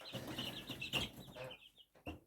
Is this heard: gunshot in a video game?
no